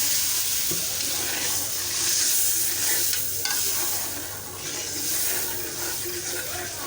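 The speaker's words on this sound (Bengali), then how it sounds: "মশলাটা কষানোর জন্য দেওয়া হচ্ছে পানি।" Water is poured into spices frying in a pan (turmeric, chili and coriander powders with ginger, garlic and cumin paste), giving a loud bubbling sizzle with scraping as the mixture is stirred.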